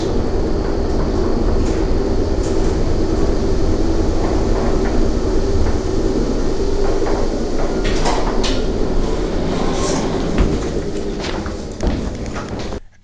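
An old modded OTIS lift that doubles as a freight lift running at a hospital: a steady loud rumble and whir of the moving car with scattered clunks and rattles, easing off near the end.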